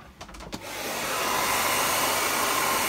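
A few soft handling clicks, then a hair dryer switches on and settles into a steady, close whooshing hum, drying textured stone paper.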